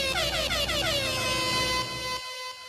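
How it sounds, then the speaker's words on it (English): An air horn sound effect blasts loud and sustained for over two seconds, its stacked tones wavering and bending, then cutting to a quieter tail. "Air horns."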